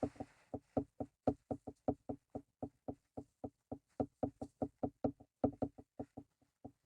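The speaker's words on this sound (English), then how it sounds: "And I just knock the excess into the next one." A shower steamer mold is knocked against a hard surface to clear out the excess mixture, giving a long, steady series of close, sharp knocks spaced evenly, about four each second.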